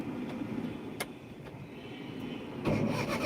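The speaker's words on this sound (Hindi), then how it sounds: "चलो गाड़ी चालू करो" A car engine cranks and catches near the end during a driving lesson, a sudden broadband rumble rising after a quiet idle-free stretch with a few small clicks before it.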